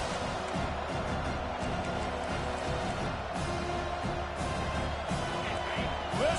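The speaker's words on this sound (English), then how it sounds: "Listen to this crowd just shaking the girders of this place, trying to help their defense" Football stadium crowd roaring and cheering steadily in a packed venue during a game, a dense continuous wash of many voices at full volume with no distinct pauses.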